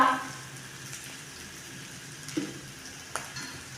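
Spices, sugar and chilli powder sizzling and frying steadily in a pan, with a few faint stirring clicks and scrapes, heard alone without talk.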